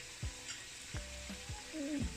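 Sliced papaya frying in a pan for a Chinese-style vegetable curry, a steady close sizzle with a few short scraping stirs of a spatula against the pan.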